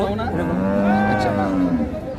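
A calf moos in one long drawn-out call at a busy calf market at Hazratpur haat near Dhaka, loud and close over a steady murmur of crowd noise.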